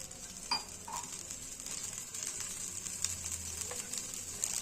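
Oil heating in a frying pan for vegetable fried rice gives a steady, close sizzling hiss, with a few faint clinks of the pan and no talking.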